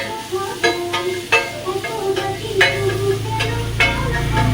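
Chopped meat with tomato frying on a hot tawa, a steady sizzle punctuated by sharp, regular scraping and clanking strokes of a metal spatula against the pan.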